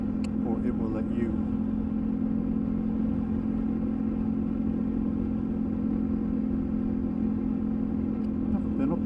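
A KTM 1290 Super Adventure motorcycle ridden through Wales, its engine holding a steady, loud, low drone throughout with constant wind rush.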